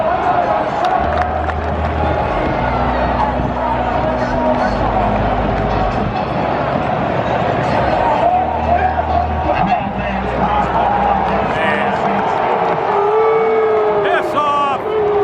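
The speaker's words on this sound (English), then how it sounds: "it is a volatile crowd today" Loud, rowdy football stadium crowd at a Purdue versus Notre Dame game, a continuous roar of cheering with shouted chants rising above it and nearby voices talking throughout.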